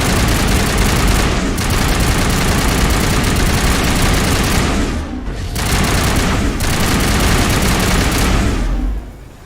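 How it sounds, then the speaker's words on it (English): A turret in the Mass Effect video game fires a sustained, loud barrage of rapid shots, pausing briefly twice before resuming, then cutting off near the end. "That turret can punch some nasty."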